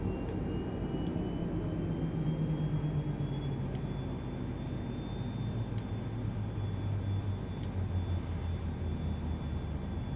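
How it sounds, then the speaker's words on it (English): The twin engines of an Airbus A320neo wind down after landing on a stormy day, a steady whirring roar with tones sliding slowly downward as they spool off, heard continuously from nearby. "And engines go off."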